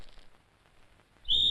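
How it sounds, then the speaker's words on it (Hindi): A whistle is blown once, loud and piercing, breaking out suddenly at the very end after a near-silent stretch. "मेरे बाप ने सीटी बजा दी है।"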